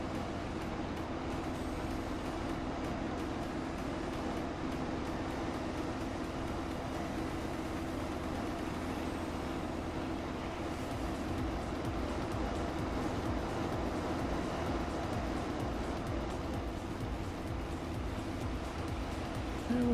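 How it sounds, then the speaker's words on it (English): Wind rushes over a small plane in flight, a steady, loud, broadband roar that holds unbroken for the whole stretch with no voices. "Hearing all the wind passing over the plane."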